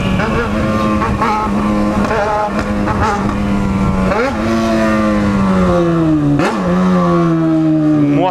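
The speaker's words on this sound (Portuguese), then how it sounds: "Moto barulhenta, hein, meu amigo?" A loud motorcycle engine revs repeatedly close by, pitch surging up and dropping back in several throttle blips, with a steady rumbling idle between them.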